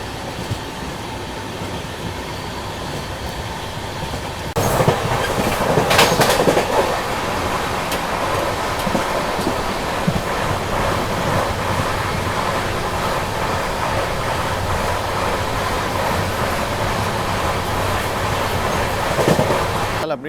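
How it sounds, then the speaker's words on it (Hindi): Paschim Express pulling out of platform 3 at Dahod station, wheels rumbling and clacking steadily on the rails, loud and close, growing after an initial quieter stretch, with occasional squeals and rattles. "चलिए निकल चुके हैं दाहोद से। प्लेटफॉर्म नंबर 3 से अपनी गाड़ी निकली है।"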